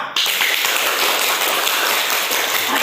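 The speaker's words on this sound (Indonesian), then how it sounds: "Kasih tepuk tangan untuk kalian semua" Sustained applause from students and teachers in a classroom after booklet presentations, a dense, even patter of many hands clapping throughout without pause.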